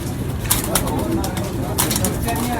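Pigeons cooing at a pigeon keeper's loft in Lahore, soft repeated coos mixed with clicks and rustling over steady, dense background noise.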